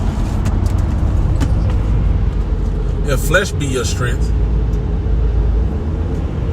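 Early morning road traffic, a constant loud low rumble of passing cars and buses that runs beneath someone speaking in the middle of the clip.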